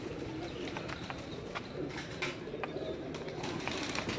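Breeding pigeons coo softly in a loft, low repeated calls layered over chirps and a steady background hum, with no talking.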